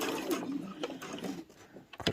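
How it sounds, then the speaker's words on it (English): A sewing machine stitches off the corner of a fabric pouch, a short close burst of quick mechanical needle chatter with small clicks, briefly pausing before a final louder clack. "And then just rotate, leave your needle in, rotate, and then stitch off the corner."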